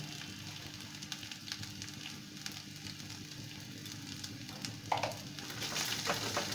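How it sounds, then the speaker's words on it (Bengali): Spices and stuffing for stuffed capsicum being stirred in a hot frying pan, giving a steady, close sizzle with soft scraping that swells slightly near the end. "সমস্ত উপকরণগুলো আমি এক মিনিট নাড়াচাড়া করে নেব"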